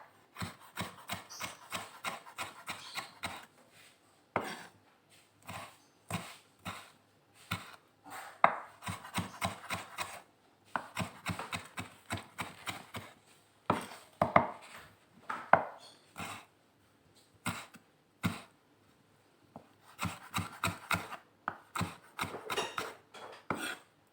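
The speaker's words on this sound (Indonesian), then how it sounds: "Nah seperti ini tuh, kita potong-potong," A knife chops tomato for fu yung hai on a wooden board in quick bursts of crisp, close taps, with short pauses and scraping rubs between rounds.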